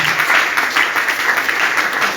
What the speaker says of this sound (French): Il faut acclamer bien.